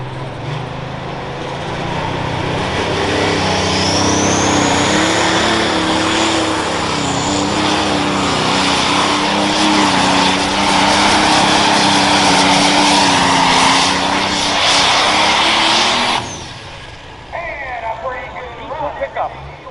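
A John Deere 5020 Limited Pro pulling tractor roars at full power on an outdoor pull track, its loud, steady engine drone rising and wavering for about sixteen seconds before cutting off abruptly, with an announcer talking over it.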